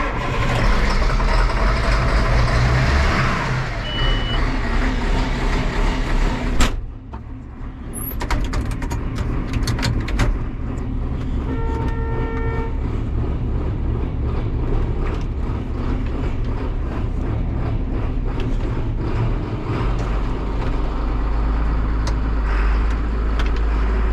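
A John Deere 835M Gator utility vehicle starts after a loud mechanical stretch, then settles into a continuous, close, rumbling engine run.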